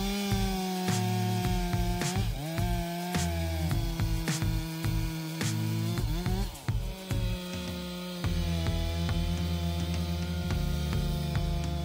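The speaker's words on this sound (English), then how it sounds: "Harvesting these oak trees requires the use of chainsaws" Steady droning whine of a chainsaw cutting oak trees in a dense forest, pitch shifting as it bites in, with a strong continuous hum throughout.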